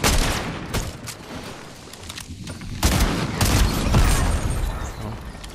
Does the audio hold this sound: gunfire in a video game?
yes